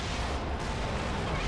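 A single heavy headshot blast from The Evil Within rolls out as a dense, sustained boom filling the short moment, loud and close with no clear break.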